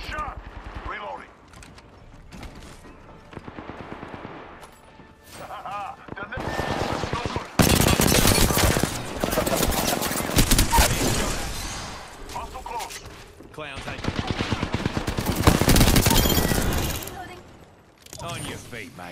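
Gunfire in the Gears of War video game, with repeated bursts of rapid automatic shots, some loud and close and others quieter, alongside in-game voice callouts.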